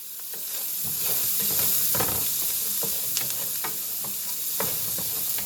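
Onions fry and brown in a pan over medium-high heat, a continuous close sizzle with frequent stirring scrapes and no talking.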